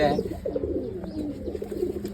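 Soft, low pigeon coos roll on continuously, close by, with a faint background hum.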